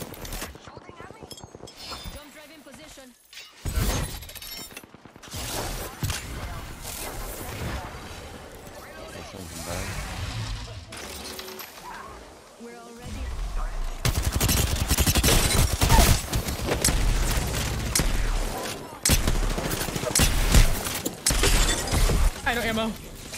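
Rapid bursts of gunfire from weapons in the video game Apex Legends, crackling in dense, uneven volleys that grow louder and busier midway, with players' voices talking over the shooting.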